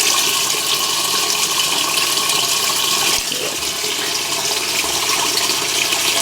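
A 1989 Maytag A512 Fabric-Matic washer fills with cold water, a loud, steady rushing gush that holds unbroken throughout, with a slight shift in tone about midway.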